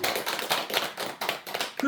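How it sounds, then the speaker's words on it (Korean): Audience clapping at a Sunday dharma talk in a Korean Buddhist temple, a steady patter of many hands that stays fairly close and keeps up evenly for about two seconds. "박수 쳐야 돼요"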